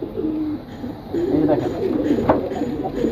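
A silver pigeon cooing in soft, low repeated phrases, fairly close, with a brief louder note near the end.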